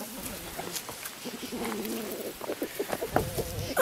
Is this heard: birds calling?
yes